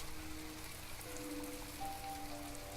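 Steady hiss of rain in the naval combat game From The Depths, a dense, even patter that runs throughout, with faint tonal game sounds drifting underneath.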